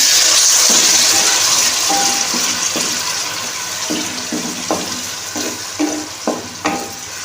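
Whole spices crackle and sizzle loudly in hot oil as a tadka is tempered for black chickpea dal, a steady frying hiss with stirring clinks and sharper pops growing more frequent toward the end.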